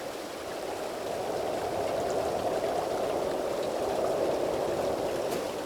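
Trickle of blood-red water running from a horn in the Das Schwarze Auge: Satinavs Ketten video game; a continuous, even rushing flow swells slightly after the first second and stays steady throughout, with no voices.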